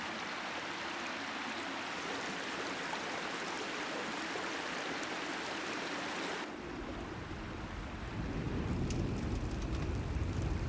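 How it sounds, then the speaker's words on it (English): Water of Devil's River rushes past in a steady, broad roar close by, shifting midway to a heavier, deeper churning flow, with no voices. "This you call Devil's River."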